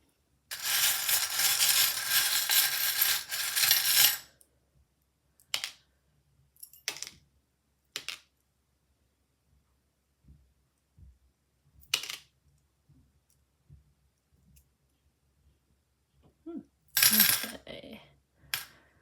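Tarot cards are shuffled in a dense, continuous papery rush for about four seconds. Scattered light flicks and taps follow as cards are drawn and set down, with a brief rustling burst near the end. The sound is close and fairly quiet.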